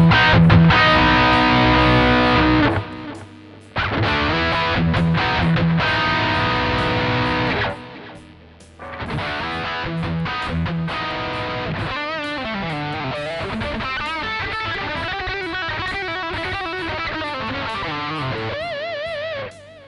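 An electric guitar plays through a Hughes & Kettner Tubemeister 18 tube amp, loud and distorted, with chords and riffs in phrases broken by short pauses and faster melodic runs later.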